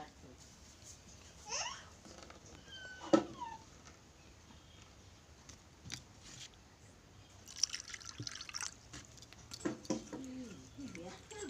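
Dates being washed in water: soft, sporadic drips and splashes with light handling sounds, fairly quiet, with occasional faint bird calls in the background.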